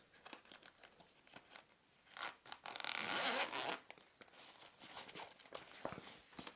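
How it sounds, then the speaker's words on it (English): A nylon messenger bag zipper is pulled open in one long rasping stroke, loud and close, surrounded by scattered clicks and rustles of handling. "And now I'm going to pull open that zipper now."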